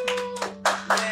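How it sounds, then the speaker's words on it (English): A handful of people clap for Bella at a Christmas devotional gathering, a short sparse round of applause in a few uneven bursts, fairly close, over a steady low hum. "put your hands together for Bella"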